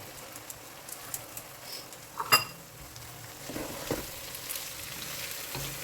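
Boiled urad dal fries in a pan with a constant soft sizzle, broken by occasional scrapes and clinks of a spoon stirring against the metal.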